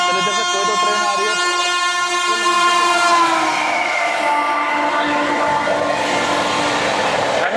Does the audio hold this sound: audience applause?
no